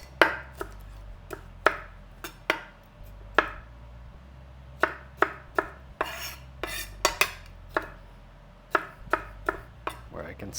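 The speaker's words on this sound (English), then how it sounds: "I'm just going to dice these." Vegetables diced with a knife on a cutting board for a family comfort food dish, sharp close chops in irregular bursts with pauses between, alone without talking.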